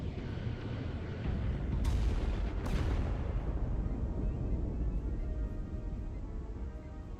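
Starship weapons fire in the Star Trek: Resurgence video game, heavy rumbling bursts with two sharp cracks layered over continuous engine-like roar, under a voice.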